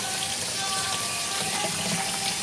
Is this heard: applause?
no